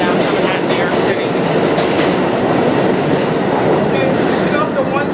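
New York City subway train at the Uptown 1/2/3 platform at Chambers Street, downtown Manhattan, a loud continuous rumble and rattle of cars rolling through the station with clattering wheels throughout.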